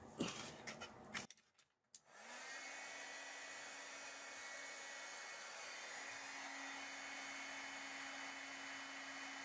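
A heat tool blows over a gilding-flake craft project, a steady whirring airflow with a faint tonal whine that starts after a couple of seconds of rustling and handling.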